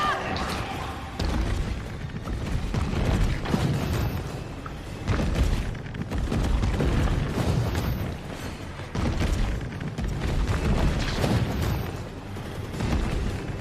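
Mine rounds explode in the video game Resident Evil 3 Remake, producing a dense, continuous wash of heavy booms and rumbling blasts that swell and fade, loud and close.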